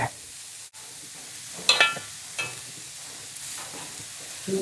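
Cabbage thoran frying in a pan, stirred now and then, gives soft scraping and clattering touches over a low, steady sizzle, with a few sharper knocks of the spoon.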